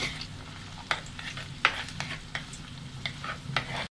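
Onions sautéed in a pan for a spicy South Indian crab curry: continuous soft sizzling broken by irregular scraping strokes of a spoon, close and moderately loud.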